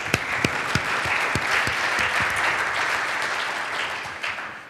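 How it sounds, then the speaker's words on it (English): Steady applause from a conference audience after a keynote introduction, a dense wash of many hands clapping with a few sharp claps up close, held at an even level throughout. "So how about a big round of applause for them?"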